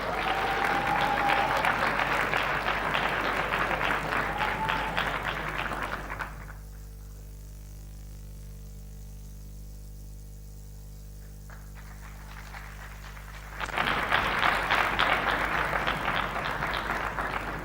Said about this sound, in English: Please help me give a warm round of applause and a welcome to Professor Achille Mbembe